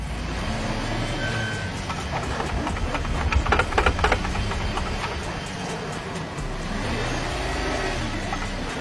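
A Chevrolet Captiva with automatic transmission held in first gear strains uphill on snow: a steady, loud engine drone with rising revs and bursts of rattling wheelspin in the middle.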